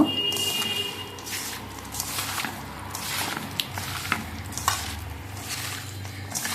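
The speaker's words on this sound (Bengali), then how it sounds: "আলু টমেটো কুচি পেঁয়াজ কুচি কাঁচামরিচ কুচি লবণ একটুখানি জিরার গুঁড়া আর হচ্ছে তেল আমি সব কিছু একসাথে মিক্সড করে মাখিয়ে নিব" Chopped potato, tomato, onion and green chilli being hand-mixed with salt, cumin powder and oil, giving a steady wet squishing and stirring texture with soft clinks of a bowl throughout.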